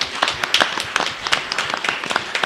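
A city council meeting audience claps to welcome a new city official, giving a dense, steady patter of many hands at moderate distance with faint voices underneath.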